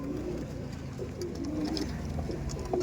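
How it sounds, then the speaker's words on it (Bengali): Dhanyawala breed pigeons, a male and a female, coo softly and steadily nearby after being released, with low repeated cooing throughout. "এটা ধান্যওয়ালা ব্রিডের পায়রা ছিল"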